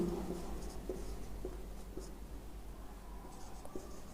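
Pen or chalk writing out a calculation for a physics lecture on waves, a continuous scratchy scrawl with short taps and strokes, close and steady over a background hum, with no talking.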